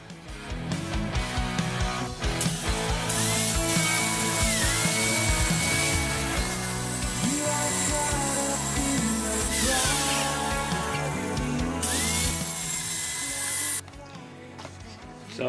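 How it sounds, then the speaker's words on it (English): Power tool cutting through a car's catalytic converter during a Suzuki Grand Vitara strip-down, a loud continuous whining, grinding drone with shifting pitch and harsh metallic hiss lasting throughout. "So I've just been slicing up the catalytic converter"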